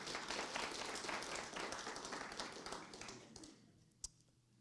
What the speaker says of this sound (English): You should definitely clap for them.